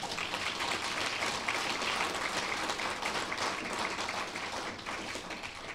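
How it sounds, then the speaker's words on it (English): Audience applauding two panelists at an indigenous taxation panel session, a sustained, even wash of many hands clapping for several seconds with no one speaking over it. "but you go ahead and applaud"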